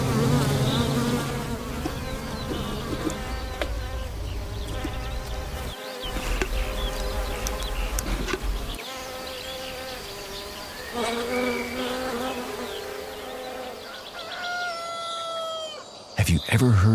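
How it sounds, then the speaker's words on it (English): Bees buzzing in a flower garden in Xinjiang, a continuous close insect drone with other ambient sounds mixed in, including what seems like distant rooster crowing. "Have you ever heard bees buzzing in the flower garden?"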